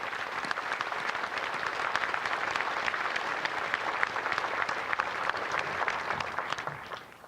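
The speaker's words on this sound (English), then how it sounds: "Let us offer them a round of applause for their eternal courage and" An outdoor crowd at a Pearl Harbor Remembrance Day ceremony applauds steadily, the clapping dense and even at moderate volume before tapering off at the end.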